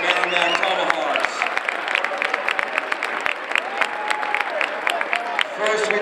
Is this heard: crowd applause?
yes